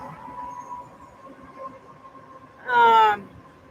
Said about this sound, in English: A train is passing.